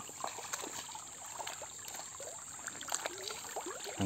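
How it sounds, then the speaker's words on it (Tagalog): River water flowing and trickling at a riverside, a soft steady babble with small gurgles and splashes nearby, fairly quiet and without speech. "Ang daloy ng tubig."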